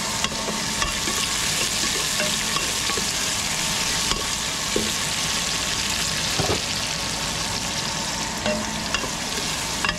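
Sinigang with tomatoes being stirred in a pot on the stove, a steady scraping and sloshing with sizzling underneath and a few sharp knocks of the spoon against the pot, close and continuous.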